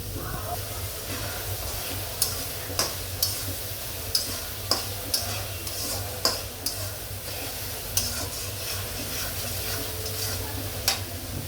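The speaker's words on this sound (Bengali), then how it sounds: "পেঁয়াজটা একটু ভেজে নিব।" Salted onions frying in a pan for a Shahi Beef Rezala: a steady close sizzle punctuated by sharp, irregular clicks and taps of a spoon against the pan.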